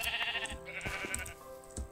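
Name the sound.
sheep bleating in a video game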